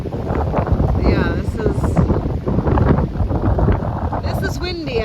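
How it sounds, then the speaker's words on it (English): Strong wind buffets the microphone over a flooded farm field during a kayak camping trip, a loud continuous rumbling roar with people talking over it. "this is windy."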